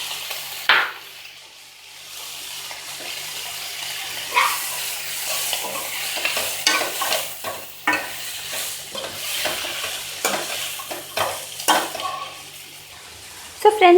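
Green beans and vegetables stir-frying in a hot pan for Indo-Chinese hakka noodles, with a steady sizzle broken by repeated scraping and stirring strokes of a spatula, close and fairly loud throughout.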